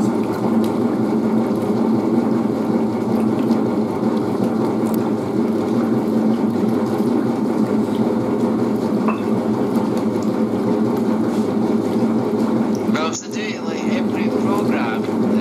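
A Kleenmaid Speed Queen heavy duty commercial washer agitates with a steady, loud churning hum and sloshing water, running continuously under occasional talk.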